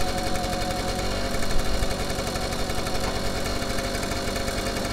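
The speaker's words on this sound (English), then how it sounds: "She settles down to a nice idle eventually." Steady, raspy idle of a cold two-stroke Honda Melody scooter engine, close up and continuous with a slight uneven burble, running alone without voices.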